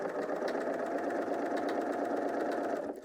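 A BERNINA L 890 machine stitches the shoulder seam of a knit top, giving a steady, close mechanical whir that runs without a break and cuts off just before the end.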